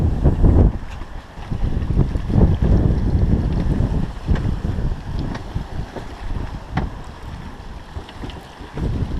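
Sailboat steered by a Sailomat steering vane running offshore in the Pacific before an 18 to 20 knot wind, with heavy wind buffeting the microphone, rushing water and irregular thumps and splashes from the hull.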